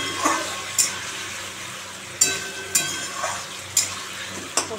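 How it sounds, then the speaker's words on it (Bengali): Eggs are sautéed with onion in a pan, a soft, steady frying hiss punctuated by half a dozen sharp spatula taps and scrapes at irregular intervals. "ডিম দিয়ে কষাচ্ছি একটু"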